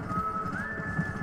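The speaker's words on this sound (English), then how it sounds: "Wild horses, man!" Wild horses in Red Dead Redemption, a short burst of hoof clip-clops beneath a rising, drawn-out whinny, moderately loud with no talking.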